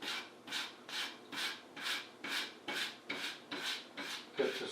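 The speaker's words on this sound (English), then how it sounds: "Now we've got the soft brass brush" A soft brass brush scrubs a Singer 301A sewing machine in steady back-and-forth strokes, about ten even rasping passes, close and fairly soft, with no talking.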